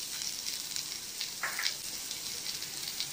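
Onion with grated carrot sautéing in a pan for green gram sundal gives a soft, even sizzle with faint crackles and a brief scrape, fairly quiet and without talk.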